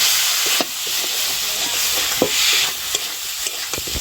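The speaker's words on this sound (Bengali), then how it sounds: "এবারে সব কিছু ভালো করে মিশিয়ে নেব।" Fried potatoes and salt are stirred into a spice paste in a hot pan for a Bengali pomfret fish curry, with a steady sizzle and hiss broken by sharp scraping strokes of the spoon, close and loud.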